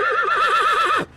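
A rescued horse in a noisy, traffic-filled setting gives one clear, loud whinny with a wavering, trilling pitch that ends abruptly after about a second.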